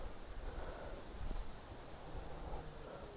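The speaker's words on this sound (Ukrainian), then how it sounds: "Сьогодні дуже вітряно." Gusty wind blowing outdoors on a late-autumn fishing outing, a steady broadband rush that swells and buffets the microphone, loudest around the middle, with no voices.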